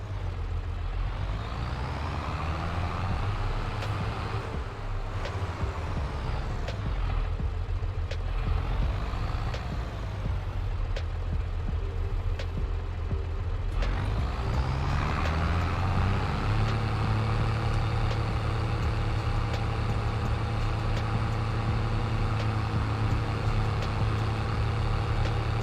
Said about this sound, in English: This tractor's that loud